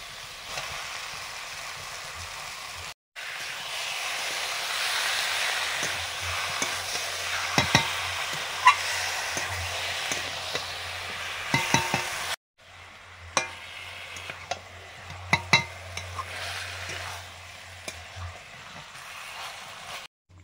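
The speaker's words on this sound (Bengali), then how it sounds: "মাংস দিয়ে দিচ্ছি," Chicken pieces frying in a hot pan with turmeric, a continuous close sizzle broken by brief pauses, with repeated scraping knocks of a spatula as the meat is stirred.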